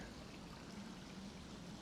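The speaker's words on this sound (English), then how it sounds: "On the far side of the beck, as the water trickles through" Water trickles through a small beck in a winter valley, a faint, steady babbling flow with no voices.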